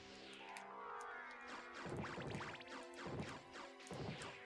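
Repeated crashing impacts of the wing smash attack in the Castlevania: Symphony of the Night video game, a string of heavy whacks about every half second over sustained game music, fairly faint overall.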